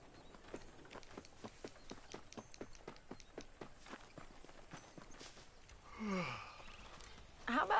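Horse hooves clip-clop at a steady walking rhythm in the Western video game Red Dead Redemption, moderately close and fairly quiet, giving way to a brief breathy sigh and then a louder burst near the end.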